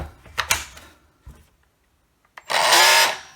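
Milwaukee cordless sander with a mechanical fault, bought as spares or repair, giving a few brief rough bursts and then a loud, steady whir lasting about a second.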